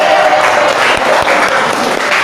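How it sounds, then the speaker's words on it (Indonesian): A classroom crowd claps together in a brief burst of applause after a student presentation, dense and fairly loud, lasting a couple of seconds. "Oke, tepuk tangan"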